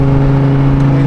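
Audi R8 engine in sport mode holding a steady, loud, droning rev with a strong low hum, close up and continuous with no talking.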